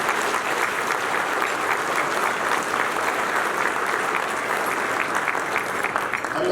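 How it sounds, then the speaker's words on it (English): Audience applause at a Hall of Fame ceremony, a steady sustained wash of many hands clapping, full and even throughout without a break. "let's give them a round of applause just for that."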